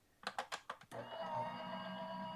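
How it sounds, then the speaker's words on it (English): A paper cardmaking die cut machine starts with a few sharp clicks and clunks, then settles into a steady motorized whir as the plate runs through. "So I'll run this through my die cut machine."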